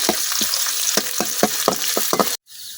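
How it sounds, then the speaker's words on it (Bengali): Onions sizzle steadily in hot oil, with a bright continuous crackle and rhythmic scraping stirs of a spatula, cutting off abruptly near the end. "এখন আমি পেঁয়াজটা কিছুক্ষণ ভাজা নিলাম।"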